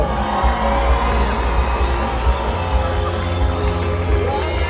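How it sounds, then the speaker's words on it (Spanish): A festival crowd at the Cantoyafest in Pátzcuaro shouts and cheers loudly and continuously, a dense roar of many voices with whoops rising over a low rumbling bed. "¡Que se escuche ese grito!"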